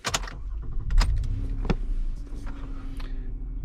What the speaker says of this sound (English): So let's turn on the car.